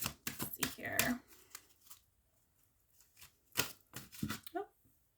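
Cards being shuffled in quick riffling bursts, crisp papery flutters with short pauses between, close by, with a voice speaking briefly.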